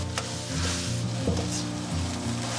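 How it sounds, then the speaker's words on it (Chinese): Asparagus dropped into a pot of boiling water seasoned with a spoonful of salt and some cooking oil, giving a steady close bubbling sizzle with a low hum and light clinks of utensils, no talking. "我们先把这个芦笋放上去，给它焯水1分钟"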